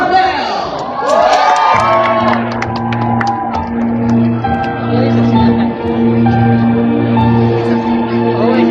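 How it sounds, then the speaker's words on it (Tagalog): An audience at a pop concert on a world tour in Anaheim, California cheers and whoops loudly as the singer is welcomed back, and a steady musical tone runs underneath. "So ulit natin naman ang kasapalakpakan at hiyawan"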